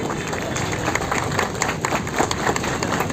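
A crowd at a students union foundation day celebration keeps up steady applause. A dense wash of clapping continues evenly throughout, loud and close.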